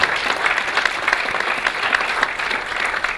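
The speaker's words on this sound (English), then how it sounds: "So one final round of applause for them." An audience claps at a community event, dense sustained applause filling the room, fairly loud and close, with no speech over it.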